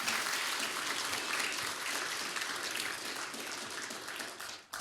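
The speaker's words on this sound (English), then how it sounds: "Round of applause for that great American." Steady, dense applause from a large audience at a gala dinner event, a continuous wash of clapping that holds for several seconds before cutting off.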